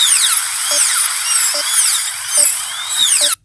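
High-pitched whining dental drill in a dentist video game, sweeping up and down in pitch in repeated short cycles with small regular clicks, loud and alone before cutting off abruptly.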